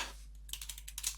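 A command typed on a computer keyboard during a Kali Linux terminal session: a short run of about eight close, crisp keystrokes in quick succession, with no talking.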